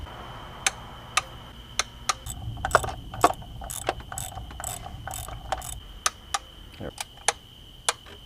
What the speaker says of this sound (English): so we're going to go ahead and torque them